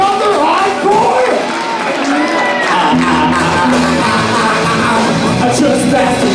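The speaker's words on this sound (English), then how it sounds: "Guys, you're too kind. You keep clapping." A live comedy club crowd keeps up steady, dense clapping mixed with shouts and whoops, with a talker's voice cutting in over the noise throughout.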